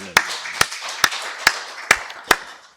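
Church congregation clapping in unison during Sunday worship, six loud, evenly spaced claps about half a second apart, close and distinct, fading at the end.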